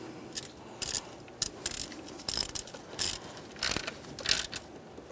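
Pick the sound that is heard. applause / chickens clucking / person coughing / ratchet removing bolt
ratchet removing bolt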